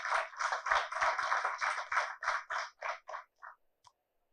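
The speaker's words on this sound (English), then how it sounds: "Please Join me in giving both teams a resounding round of applause for their efforts" Audience applause for debate teams at a school debate competition, a dense round of clapping that holds steady for about three seconds, then thins into a few scattered claps before fading out.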